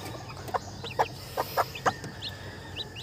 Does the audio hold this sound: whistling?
no